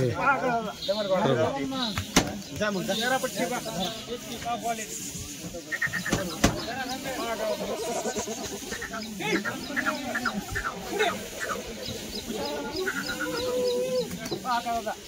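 Kathiawadi goats at a livestock sale bleat repeatedly in overlapping wavering calls, close and busy throughout, with people talking among them and a couple of sharp knocks.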